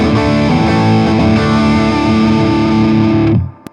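Electric guitar played through an overdrive pedalboard with a crunchy, distorted rhythm tone, strummed loud and continuous for several seconds before the chords are choked off at the end.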